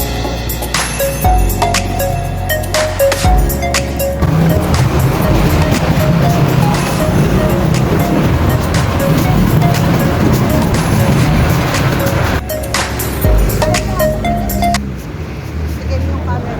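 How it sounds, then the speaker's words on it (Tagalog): A motorized tricycle rumbles along on a ride, its engine and road noise steady and loud with occasional bumps and rattles. "Nakasakay na kami ng tricycle."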